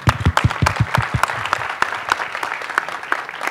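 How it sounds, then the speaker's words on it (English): Audience applause at a film music launch event, a dense crowd clapping steadily and close, with a few sharper claps standing out early before settling into an even wash. "Please applaud them."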